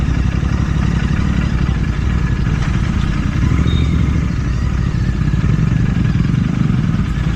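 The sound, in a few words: GT650 motorcycle riding on a rough road under construction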